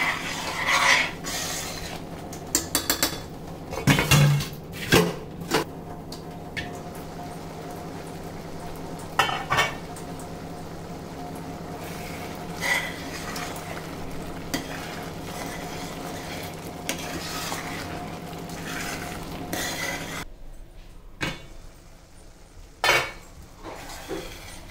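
Dried peas (batani) simmering in a pot on a stove get stirred with a utensil, giving intermittent scraping, clinks and soft bubbling, with a louder knock near the start and quieter, sparser stirring toward the end.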